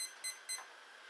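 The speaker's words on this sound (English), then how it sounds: "I'm just going to get our timer ready" Kitchen timer being set before cooking a sausage, egg and tomato pasta, giving short high electronic beeps in a quick pattern of three, close and clear with no talking.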